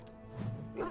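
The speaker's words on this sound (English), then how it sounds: "Oh, there's the dog," A dog in the fantasy role-playing game Dragon Age: Origins gives a short bark or two, moderately close and fairly quiet against a soft game background.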